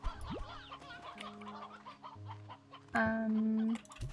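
A flock of chickens in the video game Slime Rancher 2 clucks in quick scattered bursts, ending with one louder drawn-out squawk near the end, heard alone over gentle game music.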